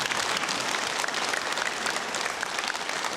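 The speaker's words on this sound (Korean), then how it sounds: "큰 박수 부탁드립니다" An audience at a committee appointment ceremony for the 2002 World Cup Suwon matches claps in dense, continuous applause, steady and fairly loud, with no voices over it.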